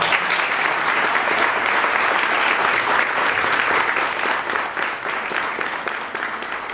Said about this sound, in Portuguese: E uma salva de palmas para essa casa.